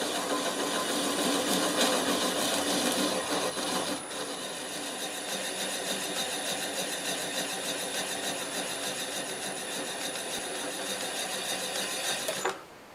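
A wood lathe running slowed to about 200 RPM, a continuous mechanical hum and whir with a steady high whine, dropping slightly in intensity early on, then cutting off abruptly near the end.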